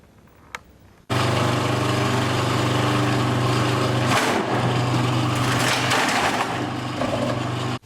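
A Baby Prince vegetable cutting machine starts with a sudden loud motor roar and runs steadily, its blades grinding and crunching through vegetables pushed down with a pusher, the harsh churning continuing close up without pause.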